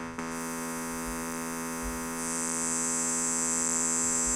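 A synthesizer drones a steady buzzing tone rich in harmonics, with added noise brightening the upper range after about two seconds, continuous and alone.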